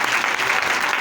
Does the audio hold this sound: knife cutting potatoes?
no